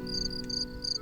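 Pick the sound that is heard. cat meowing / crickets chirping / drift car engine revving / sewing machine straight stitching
crickets chirping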